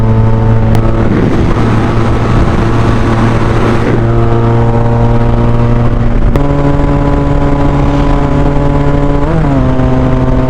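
A BMW S1000 XR with its stock exhaust is ridden at speed. The engine drone is loud and close, its pitch shifting with gear changes partway through.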